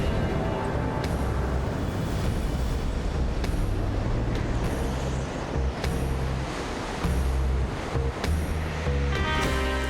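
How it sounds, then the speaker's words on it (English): Heavy rain pours down in a forest, a dense, steady roar of water with brief louder gusts and splashes and no voices. "The gentle showers become a deluge"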